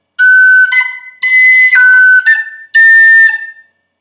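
Tin whistle playing the opening phrase of the Irish tune The Connachtman's Rambles, three bright slurred runs of notes with short gaps between them, close and loud, with no voices.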